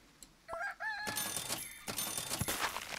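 Rooster crowing in Super Auto Pets, one short clear crow near the start followed by a burst of cartoonish game effects and jingles.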